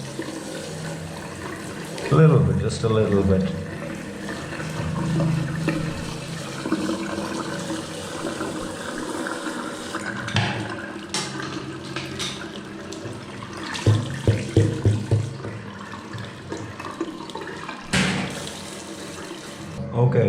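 Pressurized water rinses a K&N air filter during off-road cleaning, a continuous hiss and splash that surges in bursts, with a person speaking briefly over the spray.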